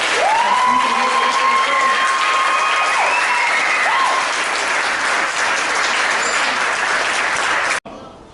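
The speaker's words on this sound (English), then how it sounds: "So please, another round of applause for everyone in this group." A folklorico dance audience applauds steadily for an anniversary performance group, a dense loud wash of clapping with some cheering that runs evenly and cuts off abruptly near the end.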